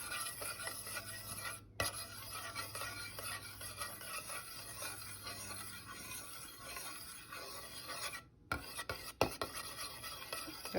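Gelatin and apple cider vinegar gummy mixture stirred slowly in a pot, giving a soft continuous rasping and scraping with a couple of brief clinks, fairly quiet and close, with no talking.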